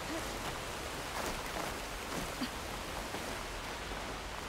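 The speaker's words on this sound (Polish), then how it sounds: "Kurde, ale się pogoda popsuła. Jakieś deszcze, nie deszcze." Soft, steady rainfall in the video game Horizon Forbidden West patters quietly in the background, an even hiss with faint scattered drops and no speech.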